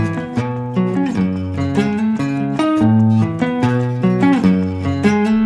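Clean guitar riff of ringing sus2 chords, played with a driving, syncopated rhythm; steady and loud, the arpeggiated notes overlapping with no voices.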